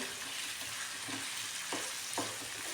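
Torn chapati pieces stirred with tomato sauce in a hot pan, giving a steady soft sizzle with a few scraping spoon strokes at regular intervals.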